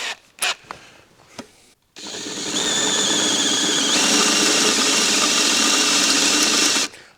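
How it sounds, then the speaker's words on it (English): A loud power drill with a 3/8 bit whines steadily for several seconds as it bores into the aluminum of a meat slicer, with a pitch shift partway through, after a few brief clicks. "I'm trying to keep the drill level or square to the meat slicer"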